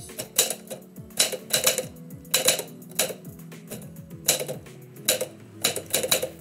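A typewriter clacks through a poem in quick bursts of keystrokes, each cluster separated by brief pauses, with crisp, close-up strikes and the occasional carriage ratchet.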